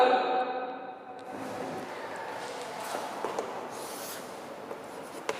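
Handwriting during a lesson, soft pen-on-paper scratching strokes, faint and close, preceded by a brief tonal sound at the start, with no talking over it.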